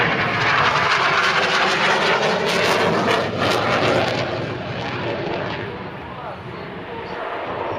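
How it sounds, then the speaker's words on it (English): Jet aircraft roar overhead in an outside barrel roll at an air show, making a loud, sweeping engine rush that fades slightly while a commentator talks over it. "continues to push and roll the jets in an outside barrel roll before pointing back down towards the ground"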